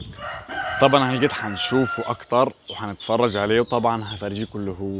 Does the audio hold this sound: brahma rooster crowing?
yes